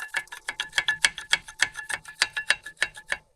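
Steady ratchet clicks while a brake caliper is being removed from a BMW E46, a regular run of about twenty light metallic ticks, fairly close, ending abruptly.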